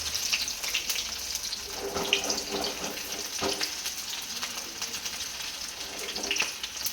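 Food frying in hot oil in a home kitchen, a soft, continuous sizzle and crackle with occasional clinks and stirring sounds, fairly quiet and with no talk.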